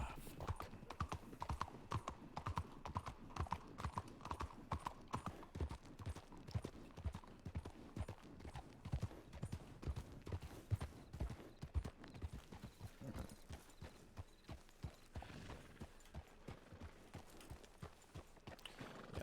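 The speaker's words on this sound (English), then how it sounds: "We'll just leave our horse over here." Horse hooves clip-clop steadily on the ground in Red Dead Redemption 2, a continuous rhythmic walking beat with occasional whinnies and ambient game noise.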